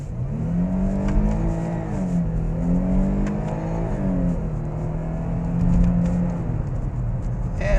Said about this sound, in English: we can come pull this full throttle run, demonstrate how quick this car actually will move